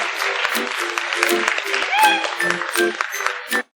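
An audience applauds at the close of a recording, dense clapping mixed with crowd voices that holds steady and then cuts off abruptly.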